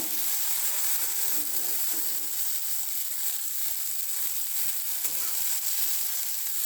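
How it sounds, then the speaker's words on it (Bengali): Green chillies frying in oil give a steady, dense sizzle that holds even and close throughout, with soft clinks and stirring now and then. "দেখো লঙ্কাগুলো তুলে নিচ্ছি, ফ্রাই হয়ে গেছে।"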